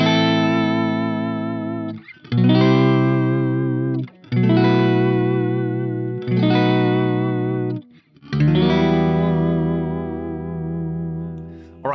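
Electric guitar plays sustained, ringing chords through a clean amp with an EV12 cabinet blend and an 8K high cut, in four loud strummed phrases separated by short gaps, with no talking.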